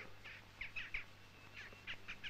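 Birds chirp in an empty town as a sound effect for a 1973 audio drama: short bright twittering calls in scattered bursts, moderately near over a faint steady hum, with no voices.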